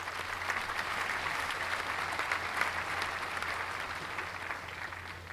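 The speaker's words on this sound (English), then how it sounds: "this one is just applause" Stock recorded applause from a royalty-free music library: a continuous, even crowd clapping at steady loudness throughout, with a faint low hum running underneath and no voices.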